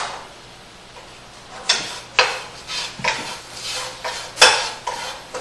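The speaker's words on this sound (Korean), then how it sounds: "깨 볶듯이 이게 타지 않게 갖다가 이제 볶아줘야 되는데" Achyranthes root is dry-roasted over medium heat, stirred like sesame seeds in a pan, giving repeated irregular scraping clatters and ticks of utensil on metal over a soft background hiss, close by with no speech.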